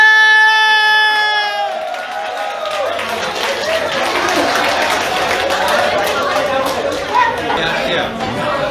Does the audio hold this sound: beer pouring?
no